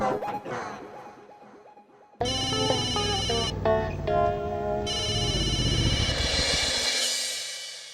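A phone ringtone plays a repeating electronic melody, quiet at first, then louder and fuller with a bright, tuneful ring that continues to the end.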